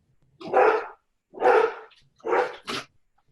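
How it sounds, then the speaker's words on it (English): A dog barks at the mailman, four sharp, loud barks close by in quick succession, each separated by brief silence. "Excuse me, I have a dog."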